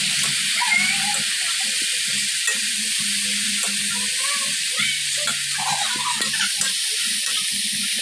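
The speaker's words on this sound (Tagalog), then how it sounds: "Mix natin yung coco." Coconut mixture stirred in a cooking pan with oil, a steady scraping and soft sizzling that runs throughout, with no talking.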